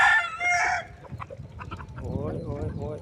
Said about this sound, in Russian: Ой, цыплята бегают.